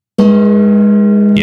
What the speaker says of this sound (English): So we'll keep striking the gong, keeping the lizard folk at bay.